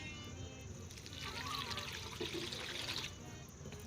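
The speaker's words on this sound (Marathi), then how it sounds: "आता ही पानं आता आपण धुवून घेऊया." Water splashing and pouring as tender drumstick (moringa) leaves are rinsed, a steady nearby trickle with brief sloshing bursts midway, with no talk.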